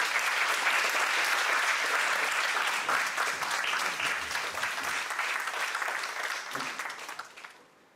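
A conference audience claps for a speaker at an evening patient-experience event, steady dense applause that holds strong and then thins and fades out toward the end.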